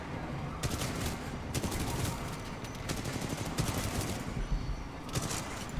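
Rapid gunfire from a hard-recoiling gun in the shooter game Titanfall 2 rattles through a dense, continuous battle din, with loud overlapping bursts and shots packed closely together across the whole stretch.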